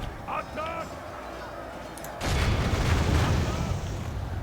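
Artillery fires in a Warhammer video game battle, a sudden heavy boom followed by sustained rumbling blasts and loud roaring gunfire, coming after a stretch of quieter game sound.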